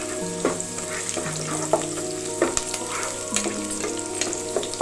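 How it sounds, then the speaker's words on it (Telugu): Chopped onion frying in a pan for beerakaya pappu, a steady crackling sizzle with scattered pops and light stirring scrapes, close and continuous with no voices over it. "అలాగే ఒక 1/2 చెక్క ఉల్లిపాయని ఇలా ముక్కలు కట్ చేసుకొని వీటిని కూడా వేసేసుకోండి. ఇవి కొంచెం ఫ్రై అవనిద్దాము"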